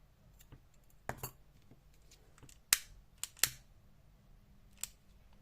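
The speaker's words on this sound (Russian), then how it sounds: "Эти хвостики обрезаю на узелочке." Scissors snip crocheted yarn tails at the knot of a crocheted toy cradle: a handful of crisp, close metallic cuts, isolated or in quick pairs, over a quiet background.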